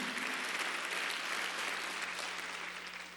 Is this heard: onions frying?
no